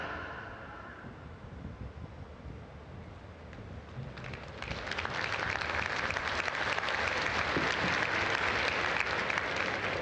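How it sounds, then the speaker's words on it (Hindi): A crowd applauds the Prime Minister at a Janjatiya Gaurav Diwas tribal programme in Dediapada, Gujarat; faint, distant clapping swells and grows steadily louder and denser after a few seconds. "आइए तालियों के साथ आभार व्यक्त करें माननीय प्रधानमंत्री जी का इस विशेष भेंट के लिए"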